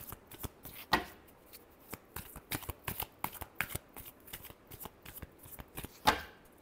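A deck of tarot cards is shuffled by hand in quick, repeated riffling bursts, crisp and close, with short pauses between the flurries of card slaps.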